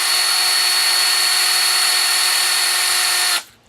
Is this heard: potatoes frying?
no